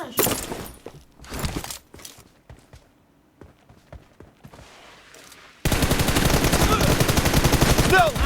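Gunfire in the mobile battle-royale game PUBG Mobile: loud bursts of automatic fire and a few single shots, then a sustained dense stretch of continuous shooting near the end.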